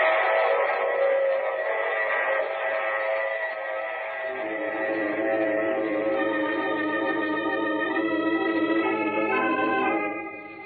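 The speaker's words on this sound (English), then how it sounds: "I take this same train every week at this same time." Train sound effect from a 1947 old-time radio mystery drama: a steady rumbling rolling sound with sustained whistle-like tones, continuous and fairly loud for about ten seconds before fading at the end, with no talking.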